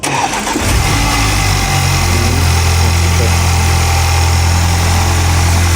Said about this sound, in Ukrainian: Так, запуск на холодну.